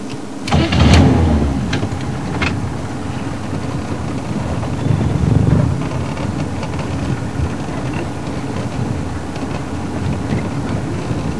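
Safari vehicle on a sunrise game drive pulls away and drives off, a steady engine rumble with a few clunks at the start and a swell midway, near and continuous, no talking.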